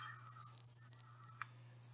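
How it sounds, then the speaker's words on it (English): Golden-winged warbler type 1 song: a buzzy high opening note followed by three louder, drawn-out buzzy notes in steady sequence, clear and close against a silent background. "they produce either the golden winged warbler type 1 song"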